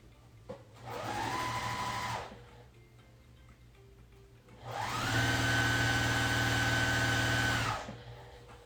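A sewing machine stitches quilt pieces in two close, steady whirring runs, a short burst followed by a longer one, with a quiet pause between.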